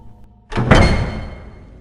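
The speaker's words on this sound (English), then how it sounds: "The painted blue doors opened smoothly" Painted blue doors swing open in one heavy thunk that rings out and fades in a hollow, quiet room, close and loud with nothing else around it.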